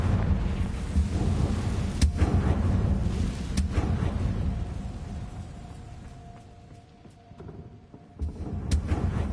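The Confringo blasting spell cast in the video game Hogwarts Legacy, a loud rumbling blast with a thunder-like roar that swells, fades and then flares up again.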